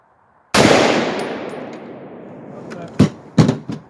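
A single loud, close gunshot from a Palmetto AR-10 rifle firing 149 gr 7.62x51 ammunition, with a long ringing decay, followed by a few sharper metallic clanks and thumps.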